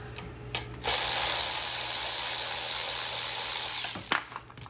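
A socket ratchet clicks steadily and rapidly while backing out 10mm valve cover bolts on a Troy-Bilt 6250-watt generator engine, a close continuous mechanical ratcheting with brief handling noises before and after.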